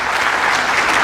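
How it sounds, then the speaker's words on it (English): A lecture audience gives a round of applause at a university inaugural lecture, a loud, dense wash of clapping throughout. "Can we give them a round of applause again, please?"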